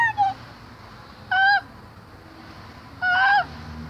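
A person imitating a hawk's call with three short, strained falsetto cries, each rising then falling in pitch, spaced well apart over faint background noise.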